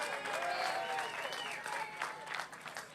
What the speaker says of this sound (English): So y'all give her another round of applause real quick